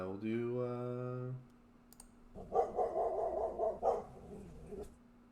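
Several dogs bark outdoors at a moderate distance, starting with a drawn-out whine and followed by a quick cluster of sharp barks mixed with clicking noises.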